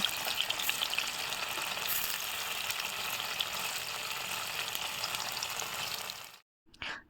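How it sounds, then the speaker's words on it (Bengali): Paneer frying in hot oil in a wok for masala paneer, a continuous bright sizzle heard close and alone, cutting off briefly just before the end. "কড়াইতে তেল গরম করে নিয়ে হালকা আছে পনিরগুলো ব্রাউন কালার করে ভেজে নিব।"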